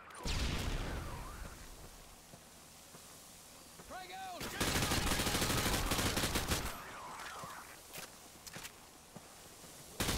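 In Call of Duty: Modern Warfare 2, dense bursts of gunfire and rapid automatic fire crackle over a constant battlefield din with footsteps. Sweeping siren-like tones rise briefly before the loudest burst, and a voice can be heard under it.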